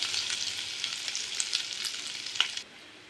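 Mustard seeds and crushed spices sizzle and crackle steadily in hot oil in a pan, with a dense, close hiss and a few sharper pops before the sound cuts lower near the end.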